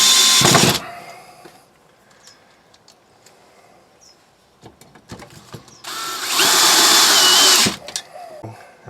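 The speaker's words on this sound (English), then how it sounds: "I'm just going to center that in there and screw it in place." A power drill drives screws to fix a mount in place for a pottery wheel, with two loud whirring bursts at the start and near the end, separated by quieter handling clicks and faint birdsong.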